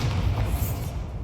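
A Bombarda blasting spell cast in Hogwarts Legacy lands as a dense, muffled low thump that rolls on for about a second, steady and fairly loud with no voices.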